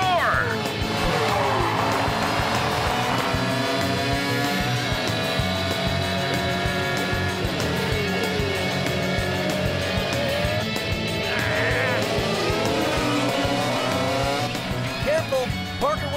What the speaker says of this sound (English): Listen to those powerful engines roar!